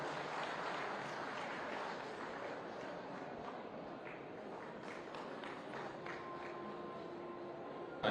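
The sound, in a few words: audience applause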